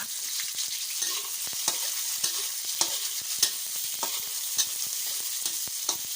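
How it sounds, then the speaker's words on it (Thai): Pork belly stir-fries in a pan with coarsely chopped garlic, a steady bright sizzle broken by repeated close scrapes and clacks of a spatula, with no voices. "แล้วเราก็จะใส่หมูสามชั้นนะคะ ลงไปผัด ไปผัดไปเคียวให้หอมนะคะ"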